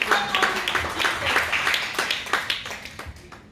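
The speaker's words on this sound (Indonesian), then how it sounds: "Tepuk tangan buat Tuhan kita yang dahsyat." A church congregation claps during a worship service, with moderate rhythmic hand claps mixed with scattered individual claps and background voices throughout.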